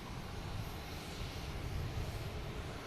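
A KLM airliner arriving at Boston Logan Airport, a steady distant jet engine rumble with broadband roar, faint and continuous with no talking.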